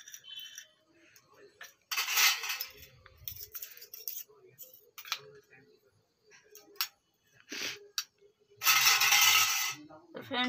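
Fried lentils and chanachur for baro bhaja are tipped into a bowl, making bursts of crisp rattling and clattering in several separate pours, the loudest near the start and end, with short quiet gaps between them.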